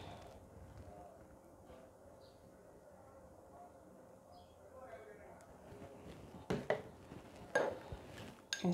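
Colgate toothpaste and Vaseline stirred together in a dish, heard as a few sharp clinks and scrapes near the end after a quiet stretch, with a person talking.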